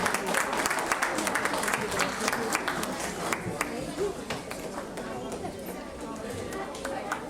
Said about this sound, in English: Can we have a big round of applause for Alok Jain?